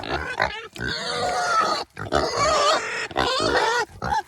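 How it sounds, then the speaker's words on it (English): Pigs grunting and squealing in loud, choppy bursts, several animals close by with brief pauses between the noisy outbursts, on a winter homestead. "those pigs can squeal"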